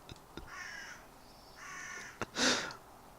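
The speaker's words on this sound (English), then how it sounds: "I hope you can pick up that crow" A crow caws outdoors in a quiet setting, with two separate drawn-out caws followed by a louder burst, set against faint ambient background noise.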